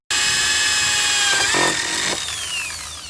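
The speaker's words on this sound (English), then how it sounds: "All right, let's drill some holes." A power drill bores holes through the metal of a Saturn Outlook rear car door, a steady high-pitched whine that shifts pitch as pressure changes, loud and close, with no talking.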